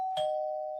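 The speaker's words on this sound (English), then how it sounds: "I think someone's ringing the doorbell." A doorbell rings once with a single sustained electronic chime tone, clear and close, holding steady until it cuts off.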